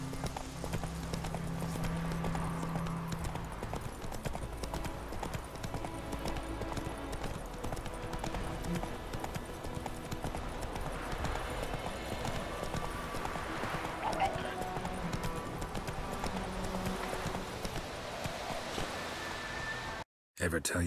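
A horse galloping in The Witcher 3, with continuous rhythmic clip-clop of hooves on the ground and an occasional whinny, as voices talk over it.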